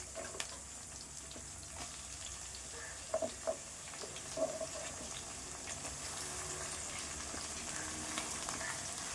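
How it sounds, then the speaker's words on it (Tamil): Onions sautéing in a pan for a Tamil mutton dish give a low, steady sizzle, with a few soft stirring clicks near the start and middle and no voices. "வெங்காயம் நல்லா வதங்கணும்."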